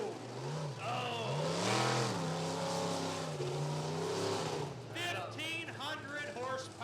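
A Ford monster truck engine roars and revs at a dirt speedway during a freestyle event, rising and falling in pitch beneath loud voices and crowd cheering.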